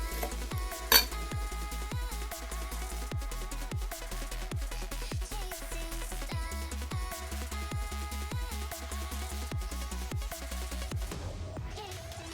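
Dishes, pots and pans are washed in a home kitchen, with steady rhythmic clinks and clatters of metal and crockery over a constant running hiss, close by and without talk.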